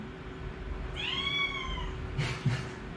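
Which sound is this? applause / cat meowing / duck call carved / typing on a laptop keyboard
cat meowing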